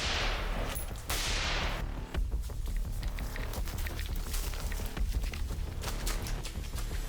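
A rifle being test-fired cracks out several sharp, loud shots at irregular intervals, the first blasts ringing with broad echoing decay, followed by a scatter of quicker reports outdoors.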